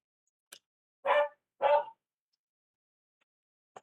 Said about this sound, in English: Apparently my dog is finding something very interesting outside.